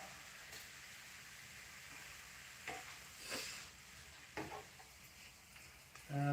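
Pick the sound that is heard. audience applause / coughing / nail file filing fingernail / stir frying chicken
stir frying chicken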